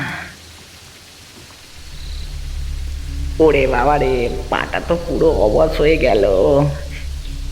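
Steady rain hiss and low rumble throughout, with a person speaking anxiously over it partway through.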